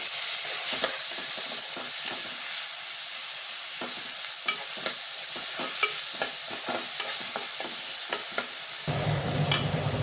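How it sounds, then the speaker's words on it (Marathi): Tomatoes, coriander and ginger-garlic paste sizzle steadily in hot oil, with repeated spoon-stirring scrapes over a continuous frying hiss, close and without talk. "हे पण छान तेलामध्ये परतून घेऊया आपण"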